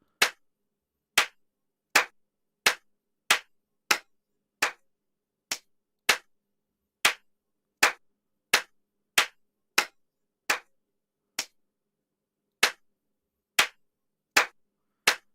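Single hand claps ring out one at a time, sharp and separate, about eighteen over fifteen seconds at a slightly uneven pace, with silence between and no talking.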